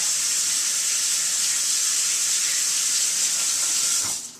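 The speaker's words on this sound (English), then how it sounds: "And then you want to take your soap and immediately rinse your brush and wash in between the bristles to get all the gesso out." Running tap water hisses steadily as a paint brush loaded with gesso is rinsed with soap, a bright constant splashing stream that cuts off abruptly at the end.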